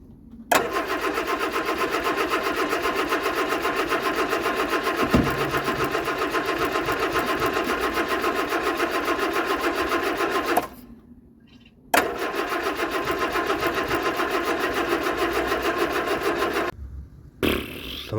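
A 1975 Vauxhall Viva's 1256 engine cranks over on the starter in long, loud, steady whirring bursts, broken by two short pauses, without catching, heard close and alone.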